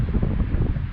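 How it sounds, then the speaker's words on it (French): Outdoor wind buffets the microphone with a loud, low, continuous rumble throughout the short stretch. "Il y a du vent."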